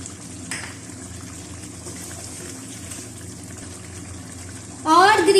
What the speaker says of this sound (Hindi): चिकन हमारा बहुत अच्छे से भून रहा है।